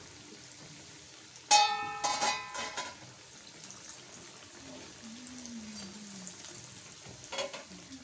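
Chicken mayo bread patties fry quietly in a pan, a faint soft sizzle with a brief clatter of utensil knocks and scraping early on, then a low steady bubbling.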